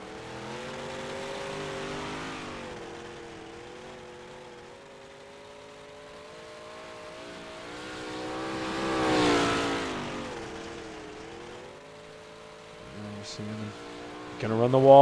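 A race car sits idling and then pulls off onto the track for its first lap. Its engine holds a steady tonal drone that swells slightly as it moves off, with a sharper rev rising at the end.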